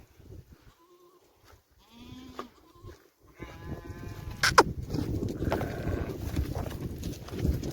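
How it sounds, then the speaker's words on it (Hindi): A dairy goat in a goat pen gives a few short, wavering bleats, followed by louder shuffling, clattering and hoof-like knocks nearby. "ये दूध वाली है बकरी।"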